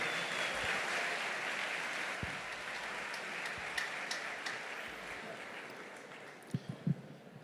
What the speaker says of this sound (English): Can we give the band a warm round of applause,